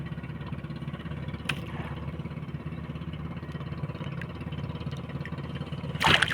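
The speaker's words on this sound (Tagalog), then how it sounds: "Yun narinig nyo, andar ng mga makina." Fishing boat engines run steadily at sea, a continuous low droning rumble holding even throughout, with a brief sharper burst near the end.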